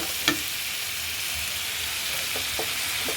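Spices frying in a small amount of mustard oil for an egg curry, a steady soft hiss throughout with a brief louder crackle near the start and faint stirring taps later.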